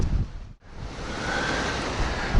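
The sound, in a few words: northeast wind and rain coming in off the ocean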